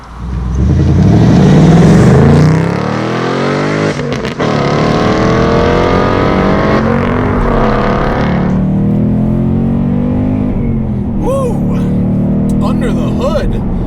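A 2019 Ford Mustang Bullitt with its 5-liter V8 and adaptive exhaust pulls hard, its loud rising engine note climbing through gears with a brief dip at a shift, then easing off with some chirps near the end.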